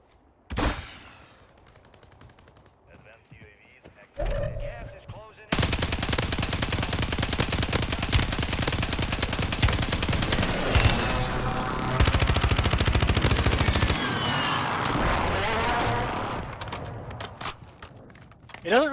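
Rapid automatic gunfire bursts from the video game Warzone rattle loudly and nearly continuously after a short quieter opening, with a voice talking at the start and between volleys.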